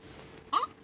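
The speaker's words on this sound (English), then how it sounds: "It's the hiccup." A single cartoon hiccup, a short sharp squeaky gulp that pops out of a quiet background, brief and fairly faint.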